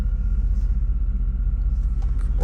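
A restored 1990 Chevrolet Suburban V1500 Silverado 4x4 being shifted into four-wheel drive, heard from inside as a steady, loud, low engine and drivetrain rumble with faint clicks and light rattles near the end, and no talking.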